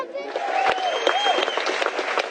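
Enthusiastic crowd at a Ron Paul election campaign event, cheering and clapping in a dense continuous wash, with a voice faintly audible through it.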